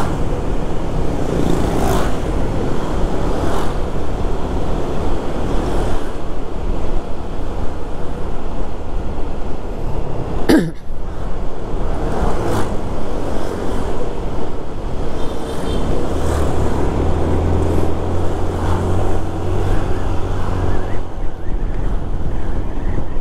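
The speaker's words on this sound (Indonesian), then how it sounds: "Mobil-mobil yang ngantri ini semakin lama nanti semakin panjang." Queuing cars on Jalan Raya Canggu in Bali make a loud, continuous roar of road traffic. Heavy wind buffets the microphone, and one vehicle passes closer partway through. No voices are heard.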